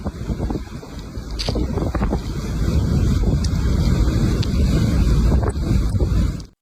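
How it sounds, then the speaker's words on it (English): Strong blizzard wind roars and gusts continuously, buffeting loudly with a rough, blustery texture and occasional sharper bursts. "the powerful blizzard that slammed into the Sierra Nevada in the spring of 2024"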